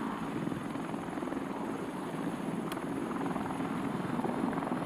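A helicopter flies steadily with a continuous rotor and engine drone, fairly faint and even throughout, with no voices.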